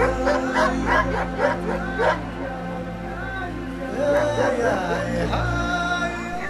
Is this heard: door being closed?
no